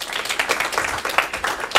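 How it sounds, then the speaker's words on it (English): A church congregation claps for a guest being handed the microphone, a dense patter of hand claps at moderate distance that swells in small bursts across the room. "Let us give him a round of applause here"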